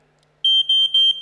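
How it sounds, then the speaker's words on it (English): A smoke alarm emits a loud, piercing high-pitched tone that starts abruptly after a brief quiet moment and pulses in short repeated bursts, heard alone. "One of the most extreme examples, of course, is a smoke alarm."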